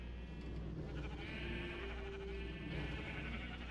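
Minecraft sheep on an automated wool farm bleating faintly and continuously under a dense, noisy game soundscape, with a steady hum and no speech.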